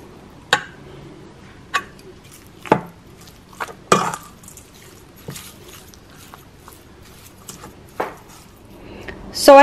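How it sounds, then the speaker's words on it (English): A knife chops sweet potatoes on a cutting board in about ten sharp, irregularly spaced close knocks over quiet background, with no speech. "I have some sweet potatoes in here that I just chopped up into little small"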